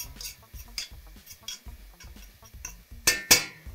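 A utensil stirs and scrapes through a bowl of fava beans seasoned with cumin and salt, giving soft rhythmic clinks and taps that end in a few sharper, brighter knocks near the close.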